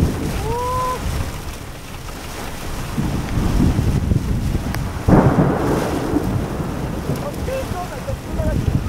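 A thunderstorm rumbles outside a parked car, with deep thunder rolls and steady heavy rain and wind drumming on the body, a loud crack of thunder breaking midway, all heard from within the cabin.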